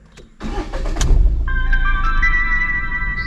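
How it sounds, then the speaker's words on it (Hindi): A car engine cranks and catches, rumbling into a steady idle while a high electronic chime rings over the running motor. "तो अब मैं गाड़ी को जो है स्टार्ट करता हूँ एक बार"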